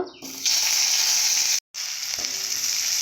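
Onions drop into hot oil in a wok just used for frying okra and potatoes, giving a loud steady sizzle that cuts out briefly and then resumes just as strongly.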